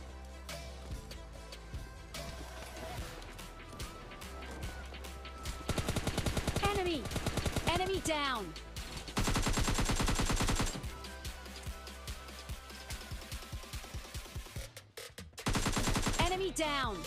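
M4 and AKM rifles fire in a solo-versus-squad battle royale shooter, with repeated bursts of gunfire over busy game sounds and tonal effects, growing louder in the middle and again near the end.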